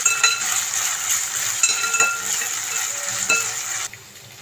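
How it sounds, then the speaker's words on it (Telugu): Ginger garlic paste being stirred into curry leaves frying in hot oil: a close, continuous sizzle with spoon scrapes and light clinks against the pan, dropping off sharply at the end. "ఒక స్పూన్ అల్లం వెల్లుల్లిపాయ పేస్ట్ వేసుకోవాలండి ఇలా కలుపుకోవాలి"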